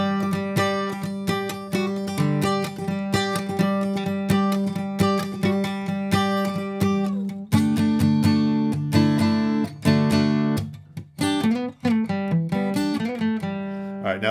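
An acoustic guitar plays a song's solo, a close, bright run of picked notes and quick phrases with strong ringing tones and some slides, heard alone without voices.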